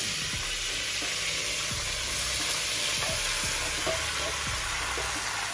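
Prawns for Jamaican pepper prawns sizzle steadily in a pan, a close, continuous hiss punctuated by light knocks of a spoon stirring them.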